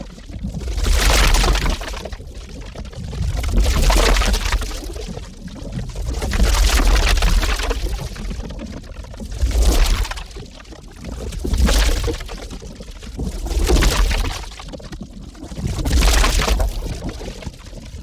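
Harsh, crumbly rolling rock debris layered with a whirring spin tracer, surging in repeated loud swells about every two seconds with gritty broadband texture and no voices.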